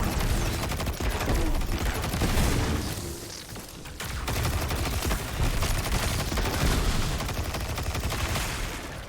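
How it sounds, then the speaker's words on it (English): Sustained machine gun fire in the video game Destiny, dense and continuous with booming impacts, briefly easing midway before the heavy rattle resumes. "Still love that machine gun."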